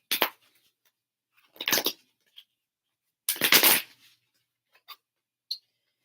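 Tarot cards are shuffled in a few separate bursts of papery riffling, close and fairly quiet, with small taps and quiet gaps between them.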